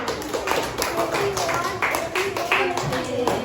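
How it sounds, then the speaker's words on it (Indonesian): Students clapping hands together in a classroom, a lively burst of overlapping claps and taps, fairly close and loud, with children's voices mixed in. "Tepuk tangannya semua."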